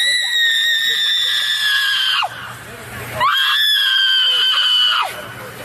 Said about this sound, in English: I don't think it's appropriate to have her screeching